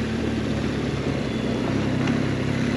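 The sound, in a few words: BMW GS 1200 motorcycle engine pulling in low gear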